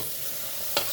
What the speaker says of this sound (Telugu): బాగా ఫ్రై కానివ్వమ్మా